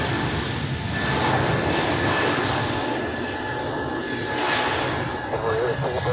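An airliner takes off from Zurich Airport bound for Luxembourg, its jet engines giving a sustained broad roar with swelling intensity, while a voice talks over it.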